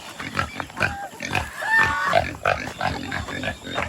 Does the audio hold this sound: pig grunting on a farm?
yes